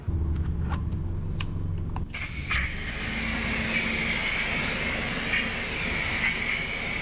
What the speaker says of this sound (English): right here I'm using my 1800 PSI ryobi pressure washer